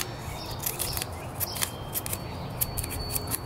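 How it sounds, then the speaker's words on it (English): Scissors snip a row of small slits into a paper palm leaf for a craft, with quick, crisp cuts in an uneven rhythm, close and clear over quiet room tone. "I'm just going to cut like little slits in it"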